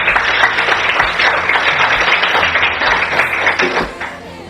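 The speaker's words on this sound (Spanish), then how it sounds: "Denle un aplauso a Dios entonces." Congregation applauding at an evangelical church service, a dense steady wash of many hands clapping with a murmur of voices underneath, sustained throughout and fairly loud.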